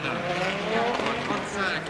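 Audi Quattro rally car at the 1988 Race of Champions, driven by Walter Rohrl up to the start line: a loud, steady engine drone with tire noise and a crowd-like wash, under commentary talk.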